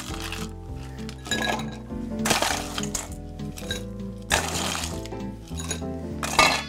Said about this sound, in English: All we want to do is add some ice to this drink.